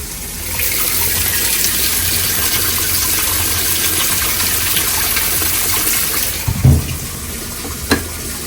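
Water from an Inglis washing machine runs and splashes in a steady close hiss, with a couple of brief knocks near the end; no talk.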